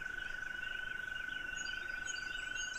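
Frogs call in a dense, continuous trilling chorus beside rushing water, with a steady high ringing note over a constant watery hiss, close and unbroken.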